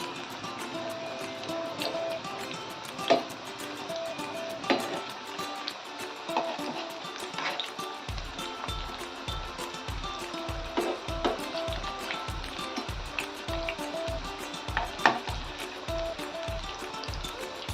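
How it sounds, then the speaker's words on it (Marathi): Drumstick flower (shevga) bhaji fritters frying in hot oil in a home kitchen, a steady crackling sizzle with scattered pops and bubbling throughout, a regular low thumping entering partway through. "आपण सर्व भजी तळून घेऊया"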